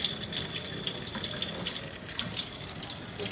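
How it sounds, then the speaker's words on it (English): Tap water runs steadily over raw beef being rinsed for a spicy beef noodle soup, a continuous close splashing stream into a sink with no voices. "Rinse it off."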